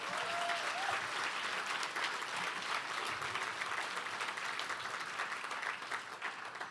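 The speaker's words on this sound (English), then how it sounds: "Please, let's give them an applause" Dinner-gala audience applauding steadily for several seconds, a dense, even wash of clapping that stays loud throughout, with a brief voice faintly audible near the start.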